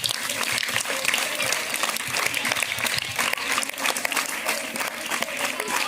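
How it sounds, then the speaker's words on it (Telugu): A crowd at a school Teachers' Day celebration at Zilla Parishad High School, Konidela, Nandikotkur, gives sustained, even applause that stays dense and loud throughout. "క్లాప్స్ కొట్టండి."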